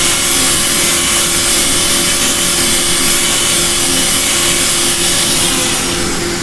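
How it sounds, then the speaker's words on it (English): A Makita drill sanding the inside of a turned wooden bowl gives a loud, continuous abrasive whirr and rub, steady throughout with no talk. "I always try to use my little drill, my Makita for sanding."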